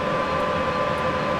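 A Class 78 locomotive in Train Sim World 5 gives a steady, close engine drone with a sustained tonal hum, unbroken and with no talk.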